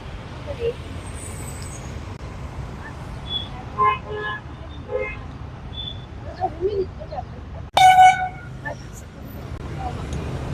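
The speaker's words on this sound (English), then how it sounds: "it's a bit noisy here because of the traffic pollution" Roadside traffic outside a school campus rumbles steadily while a few short car horn toots sound, one louder and closer near the end, with scattered birdsong.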